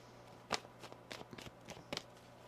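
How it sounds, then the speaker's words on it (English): A tarot deck is shuffled in quick, crisp riffles, a few short bursts of card flutter close to the microphone in a quiet room. "One more shuffle here."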